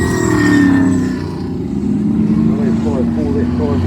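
A Camaro race car at Levels Raceway, South Canterbury, is wound up to a loud, sustained engine roar with rising and falling pitch, heard under a commentator's voice over the track PA.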